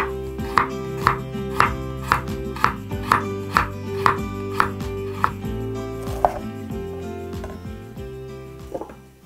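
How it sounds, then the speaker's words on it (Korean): A knife chops carrot on a cutting board in a kitchen while radish water kimchi is being made, about a dozen crisp, evenly spaced thuds in a steady rhythm that slows and stops toward the end. "당근도 비슷한 크기로 썰어주세요."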